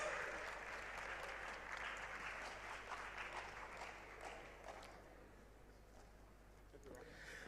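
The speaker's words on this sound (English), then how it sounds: "A round of applause, please." Applause from an audience at a digital innovation week closing ceremony in Ghana carries on steadily for several seconds, then thins and fades toward the end, with some crowd voices audible underneath.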